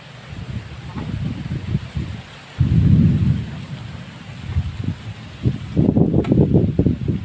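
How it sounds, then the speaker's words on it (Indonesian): Thunder rumbles and strong wind buffets a fishing spot in a loud, deep, gusting roar that surges midway and again near the end, with rain noise mixed in. "bukannya diserang ikan malah diserang angin sama geledek guys"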